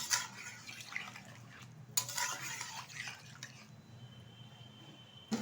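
Water is poured into a vegetarian potato, pointed gourd and paneer curry in a pot, a short splash followed by soft stirring and utensil scrapes, quiet and close.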